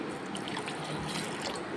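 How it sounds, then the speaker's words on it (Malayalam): Cold water poured into a jaggery syrup and lime juice mix for a sugarcane-style juice, a steady close trickling gurgle that runs without break and without any talk. "തണുത്ത വെള്ളവും കൂടി ഒഴിക്കാം."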